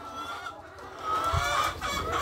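Chickens cluck in a busy coop, several birds overlapping in uneven bursts, with a brief louder call partway through.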